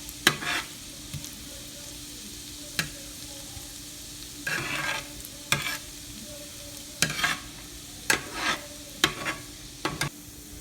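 Garlic browning in oil in a pan for a Tuscan shrimp sauce, a constant soft sizzle broken by repeated sharp spatula scrapes and stirs at irregular intervals, close by, no voices.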